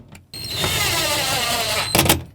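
A power driver whirs steadily for about a second and a half, tightening bolts on the inner sliding door handle of a 2008-2020 Dodge Grand Caravan, then stops with a brief clatter.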